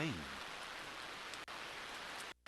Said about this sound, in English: Suddenly, it started to rain.